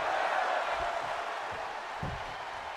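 A virtual arena crowd in the wrestling game WWE 2K25 cheers through a women's match, a steady, fairly faint roar with a few low thumps beneath it.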